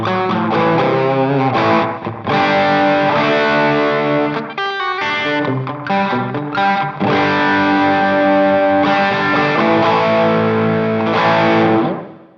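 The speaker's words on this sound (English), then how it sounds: "The D button, I just have a little slapback echo put in there." Electric guitar with overdrive run through a Sonicake Matribox II Pro multi-effects unit, set to a short slapback echo; loud distorted chords and riffs play continuously with a brief pause midway.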